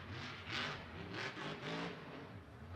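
A Monster Jam monster truck engine revs in bursts of rising roar, three or so surges in quick succession amid a noisy arena.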